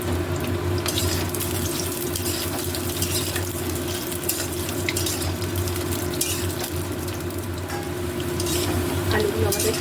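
Parboiled potatoes frying in mustard oil in a wok for a mixed-vegetable dal, a loud, dense, unbroken sizzle with scraping of a spatula as they are stirred, close up and without speech.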